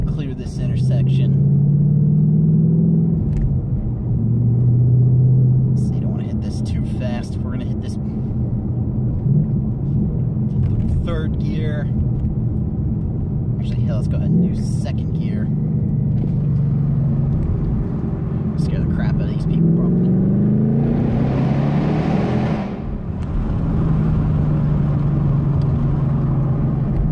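A 2018 Ford Mustang GT with a resonator-deleted active exhaust rumbles deeply while driving through town, its low drone swelling on acceleration around the middle and end, with someone talking over it throughout.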